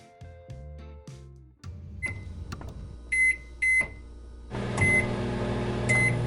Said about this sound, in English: First, you need to heat the milk up in the microwave.